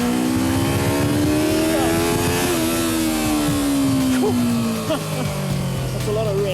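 A 2015 Yamaha R3 motorcycle engine revs hard toward its 12,500 RPM limit, a loud close buzzing whine that rises, holds, and slides down, with wind rush and road noise underneath.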